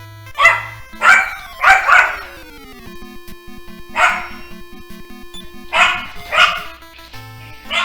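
A pet dog barking nearby in short bursts, about seven sharp barks in irregular clusters with small yips and whimpers between, loud and close over faint background game music.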